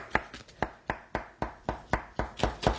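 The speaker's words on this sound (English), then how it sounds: "just using a knife, I'm just going to go around and cut this shape out" A knife cutting around a shape in a cake for a kids' recipe, giving about ten sharp, evenly spaced taps as the blade strikes the board, close and clear with no talking.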